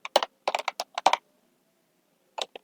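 A spreadsheet function being typed on a computer keyboard: two quick bursts of close, crisp keystrokes, a pause of silence, then two final taps.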